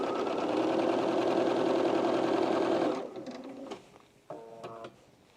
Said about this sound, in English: as I'm sewing this lining to this main fabric